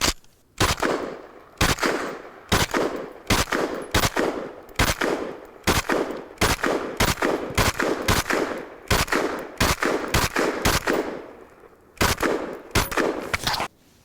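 Kel-Tec RDB rifle fired outdoors, a long run of loud, sharp cracks coming in quick bursts and single shots with brief gaps, close and dominant throughout.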